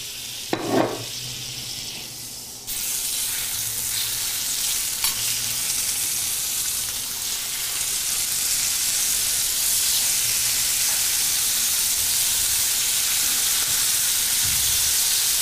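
Halibut escalopes fry in butter and oil in a pan: after a brief clatter, a loud, steady sizzle starts and holds, with faint stirring scrapes underneath.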